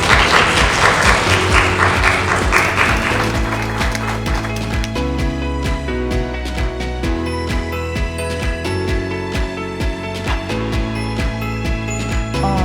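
Sustained applause from an audience at a Jeju National University career-consulting forum, loud and dense at first with a bright, hissy clatter, then settling into steadier clapping over a rhythmic musical backing for the rest of the stretch.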